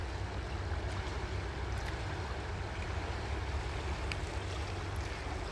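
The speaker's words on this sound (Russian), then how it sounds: "Это Томь, река бузует." The fast-flowing Tom River in Novokuznetsk rushes in a dense, continuous roar of water, loud and steady throughout, with no voices.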